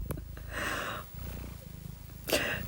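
A cream and white cat purrs close to the microphone in a steady rhythmic rumble, with a few soft breathy snorts and faint rustles.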